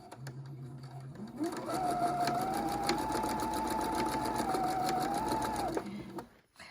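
A sewing machine stitches a quilt block with very close stitches, a steady rapid whirring hum that starts after a brief low idle, holds for about four seconds and then stops, with faint talk around it.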